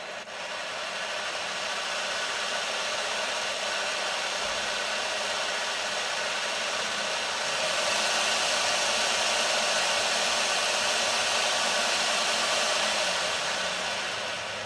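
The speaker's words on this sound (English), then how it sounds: "Not the quietest locomotive, but certainly not overly loud." A Piko Sybic N scale model locomotive's small electric motor runs with a steady, constant whir and hiss, holding an even pitch throughout and rising slightly louder about halfway through, with no pulsing and no voices.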